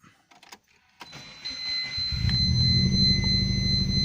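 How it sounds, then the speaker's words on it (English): A cold Subaru Impreza GC8 RB5 2.0 turbo flat-four cranks after a few clicks and a chime, catches and settles into a steady, throbbing idle, heard close and loud. "So it starts first time every time and settles to a very nice idle quickly."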